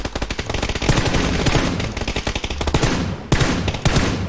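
Automatic gunfire in a PUBG Indonesia match: loud, close rapid-fire bursts with dense repeated shots, brief pauses between volleys, and no talk over them.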